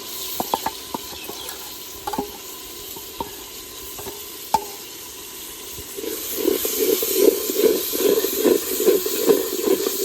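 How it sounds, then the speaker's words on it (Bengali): Ground onion, green chili and ginger paste fries in a pan for egg biryani, with scattered utensil clinks and scrapes before a steady sizzle and rhythmic stirring take over, loud and close. "ভালোভাবে ভেজে দিমু যাতে কাঁচা গন্ধ না আসে"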